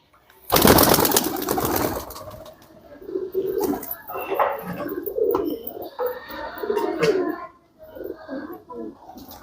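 Low, throaty pigeon coos repeat steadily, close by, after a brief noisy flutter at the start.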